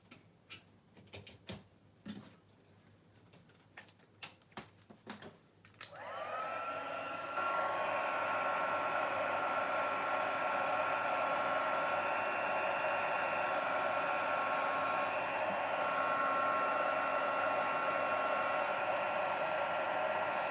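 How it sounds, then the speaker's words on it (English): An electric heat tool blowing hot air for card making starts after several soft handling clicks and taps, then settles into a steady, close whooshing whine that runs alone to the end. "My poor heat tool hasn't been used in a little while."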